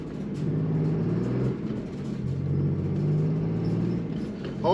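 Can-Am 6x6 engine droning and rising in pitch as the machine accelerates and is shifted up through the gears, a steady close rumble with a dip between gears, no talking.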